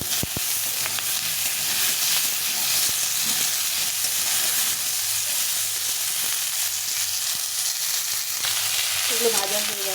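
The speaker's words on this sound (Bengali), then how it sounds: "আলু আর বেগুনটা লাল লাল করে ভাজা হয়ে গেছে এখন আমি মুলোটা দিয়ে দিলাম" Potato, eggplant and radish fry in oil in a pan, giving a constant loud sizzle and hiss with occasional crackles and stirring sounds.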